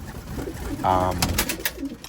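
Pigeons in a tall, narrow loft, many of them young, give a soft coo and some rustling and flutter amid low background noise.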